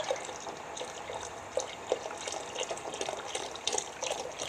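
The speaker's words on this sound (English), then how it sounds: "And then I'm going to add the beef broth." Beef broth pours into a pot of chili with a soft, faint liquid splashing and gurgling, punctuated by small drips and spatters, close by and without talk.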